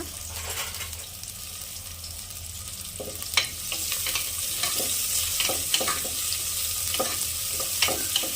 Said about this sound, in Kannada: ಒಂದು ಕುಕ್ಕರ್ಗೆ ಎಣ್ಣೆ ಹಾಕಿ ಎಣ್ಣೆ ಬಿಸಿ ಆದಮೇಲೆ ಒಂದು ಈರುಳ್ಳಿ ಹಾಕಿ ಸ್ವಲ್ಪ ಕೆಂಪು ಬಣ್ಣ ಬರೋವರೆಗೂ ಫ್ರೈ ಮಾಡ್ಕೊಳ್ಳೋಣ